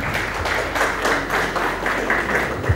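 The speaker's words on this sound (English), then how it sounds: "Give me a hand of applause." An audience at a stage show claps steadily for a volunteer, a dense, continuous applause from many hands at close range with no voices over it.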